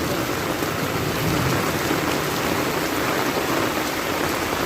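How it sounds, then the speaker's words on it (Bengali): Heavy rain pours down on a village in Mymensingh, Bangladesh, in a steady, dense hiss, loud and close, with no voices and no letup. "অসম্ভব বৃষ্টি শুরু হয়েছে"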